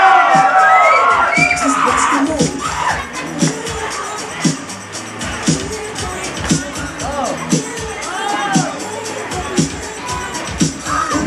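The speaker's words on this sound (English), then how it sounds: "Crowd, make some noise for these kids" A crowd at the 2015 Mira Mesa kids' battle cheers, whoops and shouts, with children yelling in loud bursts over a constant hubbub of voices and a few sharp claps or bangs.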